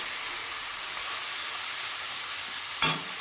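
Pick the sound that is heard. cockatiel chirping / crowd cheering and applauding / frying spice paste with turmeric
frying spice paste with turmeric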